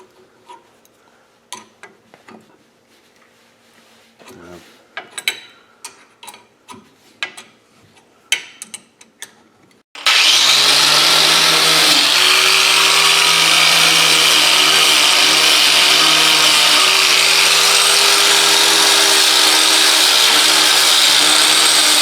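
A national pipe thread tap cutting threads into a hole for a bulkhead body during a Jeep JKU regear, a loud steady power-tool whine running without a break after scattered clicks and handling noises.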